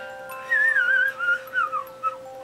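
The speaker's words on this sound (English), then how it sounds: "I can whistle." A person whistling a short wavering tune close up, a few sliding notes in quick phrases over a quiet background.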